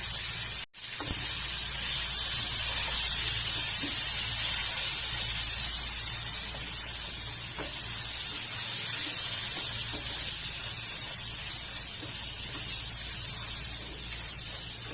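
Onions frying in a pan for a clay-pot dish of chicken giblets and necks, a steady close hiss and sizzle with faint crackles, running continuously and alone.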